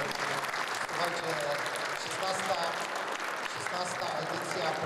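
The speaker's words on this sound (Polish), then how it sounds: "Duże brawa dla organizatorów." Sustained applause from an audience at the closing ceremony of the LOTOS Nord Cup regatta in Gdańsk, steady dense clapping with voices mixed in.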